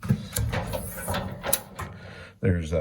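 A large Craftsman toolbox lid lifts open with a run of ratcheting, hinge-like mechanical clicks over several seconds, ending in a louder clunk, heard close up with some background activity.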